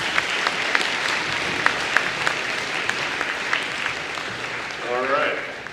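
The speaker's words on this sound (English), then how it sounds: "Please give a warm round of applause for Greg Stewart." A keynote audience at a career day applauds a guest speaker, with dense, steady clapping and a few sharper claps standing out throughout. It swells slightly near the end.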